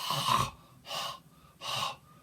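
Three harsh, raspy throat-clearing bursts, a voice imitating hacking up phlegm, each separated by a short pause.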